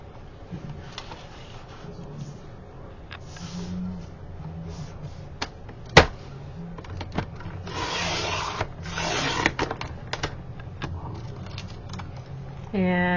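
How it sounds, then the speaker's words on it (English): A blade cuts black cardstock for a craft layout, with scraping and rubbing passes, light taps and one sharp click, heard close up with some faint voice in the background. "I am going to cut my 2 pieces of cardstock"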